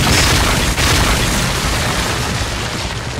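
Tank cannon fire and explosions in the World of Tanks Blitz game form a loud, dense rumbling boom that fills the whole clip, with a sharp blast near the start.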